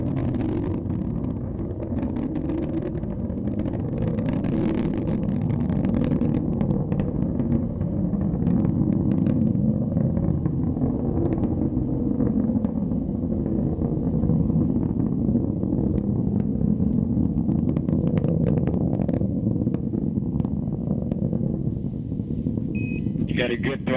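An Atlas V rocket carrying Boeing's Starliner climbs after launch, a continuous low, roaring rumble that holds steady throughout, with a voice talking over it.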